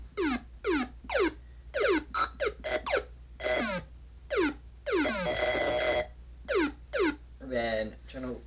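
A Game Boy Advance MIDI synth plays a rapid series of bright, buzzy notes, each diving sharply downward in pitch. Longer swept and warbling tones follow, all loud and close.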